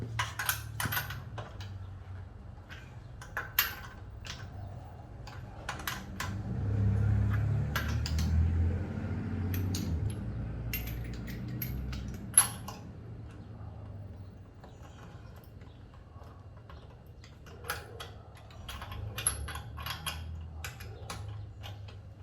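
Lug nuts on a Tesla spare tire get tightened by hand, with sharp, scattered metallic clicks and ratcheting taps over a faint low rumble, spread out irregularly and fairly quiet.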